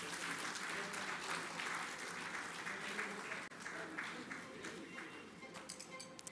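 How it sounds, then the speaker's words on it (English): Applause from the audience at a citation ceremony for a Government of India dignitary, dense continuous clapping filling the hall, briefly dipping midway before carrying on with scattered claps. "let's give a round of applause one more time for his esteemed presence"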